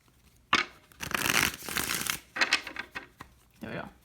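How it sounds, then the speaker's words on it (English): Tarot cards are shuffled by hand in a series of crisp riffling and sliding bursts, close and fairly loud, with short pauses between runs. "Let's do 2 more shuffles and we'll get started."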